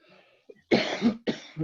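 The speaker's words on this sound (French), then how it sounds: "la toux" A person coughs sharply twice in quick succession, close and loud, after a faint murmur.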